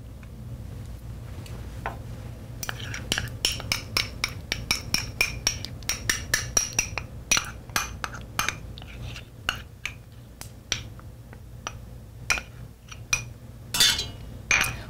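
Blueberries and honey going into a cooking pan for blueberry sauce, heard as a long run of light, quick clicks and taps, close and fairly faint, bunching up and thinning out irregularly.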